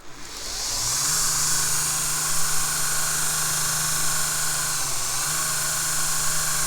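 A Vevor 1x30 belt grinder spins up and runs steadily, a smooth high motor whine with a bright hiss of belt noise and a brief dip in pitch midway, close and constant.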